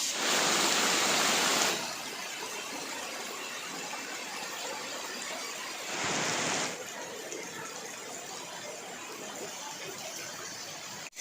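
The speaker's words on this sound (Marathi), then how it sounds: "मुसळधार पावसासारखा पाऊस चालू आहे पायऱ्यावरून पाणी वाहत आहे" Heavy monsoon downpour at Pratapgad fort near Mahabaleshwar, with water rushing down the stone steps; a constant broad roar of rain and flowing water, with two louder bursts, one at the start and another midway.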